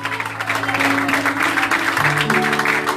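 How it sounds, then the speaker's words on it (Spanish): A church congregation claps in a dense, continuous burst while sustained musical tones play underneath. "Dale un aplauso a Cristo."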